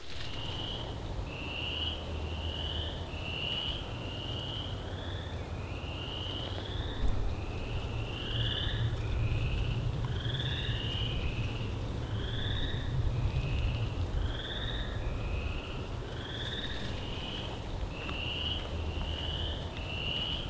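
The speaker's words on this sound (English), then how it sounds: "we could hear more chorus frogs calling all around us" Chorus frogs in a meadow at Land Between the Lakes, Kentucky, keep up a steady overlapping chorus of short, rising trilled calls, repeating constantly from many directions over a low outdoor rumble.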